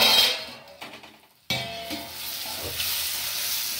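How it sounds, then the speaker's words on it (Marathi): Onion and tomato sautéing in a pan over a low flame, an up-close sizzle with stirring scrapes that fades, cuts off briefly, then returns as a steady hiss. "कांदा टोमॅटो परतून घेतलेला आहे"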